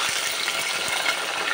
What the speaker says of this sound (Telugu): పోపు దినుసులు వేసుకున్నాం.